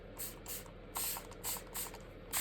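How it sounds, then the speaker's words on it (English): Water sprayed from a pump bottle onto a steampunk-style journal page in short, repeated hissing bursts, roughly six pumps spaced across the moment, close and fairly loud with no talking. "I'm spraying so much water because I don't want it to be too dark."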